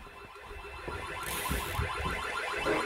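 A Logic 6 burglar alarm system sounds a continuous pulsing electronic warble, loud and close, with rapid repeating tones and a brief hiss partway through.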